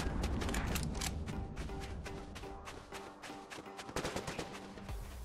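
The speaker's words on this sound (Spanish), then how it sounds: "Acabo de escuchar un disparo y no sé dónde vino" Rapid bursts of automatic gunfire in Fortnite fill the scene, dense and continuous at first, then thinning into scattered, sharper shots toward the end, with no talking over them.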